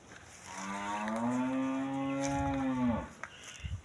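A docile Russian-breed dairy cow gives one long, deep, sustained moo lasting about three seconds, close and clear, followed by a few faint knocks and shuffles.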